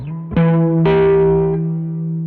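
Two heavily distorted chords from a Jazzmaster electric guitar through a distortion pedal ring out, the second sustained and buzzing before slowly fading, with no voices.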